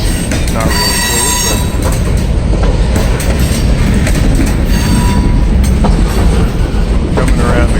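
A long freight train on the I&O line in Ohio rolls past nearby, steady rumbling with rhythmic clatter of wheels on track and occasional high metallic squeals, loud throughout.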